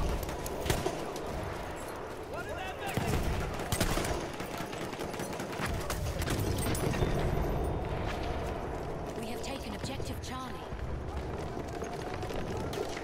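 Rapid blasts from a Sjogren Inertial shotgun in Battlefield 1 ring out amid a noisy factory-map battle, loud transient shots punctuating constant background combat sounds.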